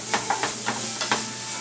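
Steady crackling sizzle of oil in a hot pan, with a few louder spits and pops over a constant hiss, close by.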